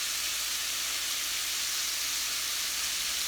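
Sliced red pepper pieces sizzle steadily in a hot pan while cooking spaghetti sauce, a continuous bright, close hiss with no pauses or voices.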